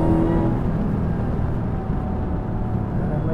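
An 800-horsepower Dodge Challenger SRT Hellcat Redeye Wide Body roars close and loud, its engine noise a dense, steady drone that barely dips throughout.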